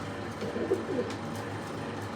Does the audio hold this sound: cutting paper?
no